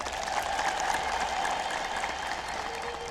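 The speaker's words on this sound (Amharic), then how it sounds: "እስቲ አጨብጭቡ" A church congregation applauds at a sermon, the clapping dense and steady throughout, a broad wash of many hands with no single claps standing out.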